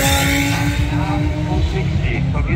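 Race cars lapping the Nürburgring during 24-hour qualifying, engines roaring loud and continuous with a rapid burbling rhythm, close by and unbroken for the short stretch.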